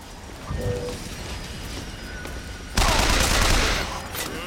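Rapid machine gun fire in the video game Clash in the Clouds, a dense continuous burst that gets louder and harsher partway through, with no talking.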